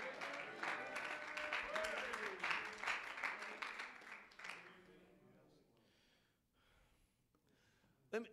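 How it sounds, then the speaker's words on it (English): A church congregation claps and shouts during a family worship service, quick rhythmic hand claps with excited voices for about four seconds, then fading into quiet room murmur and a brief final sound. "Clap your hands and shout yes to the Lord."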